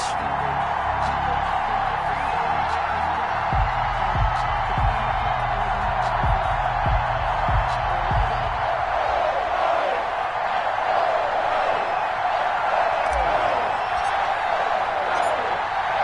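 A stadium crowd roars steadily in an EA Sports NFL game before a Patriots versus Giants matchup, a dense continuous wash of cheering with low thumping beats in the first half.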